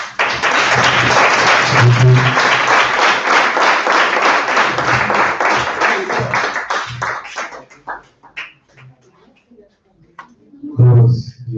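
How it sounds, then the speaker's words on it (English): Applause after a performance at an acting workshop, loud and dense from a room full of people, thinning out into scattered claps and a last burst near the end. "Another round of applause like this."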